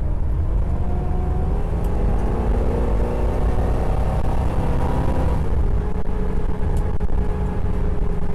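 A 1969 Cougar coupe muscle car driving, heard from inside as a steady, loud engine drone and road rumble with shifting engine pitch, continuous throughout and without talk.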